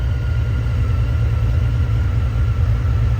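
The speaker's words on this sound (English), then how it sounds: "And there we go, it's running." Honda Valkyrie Rune motorcycle engine idling smoothly, a steady low rumble held continuously and fairly close, with no talking over it.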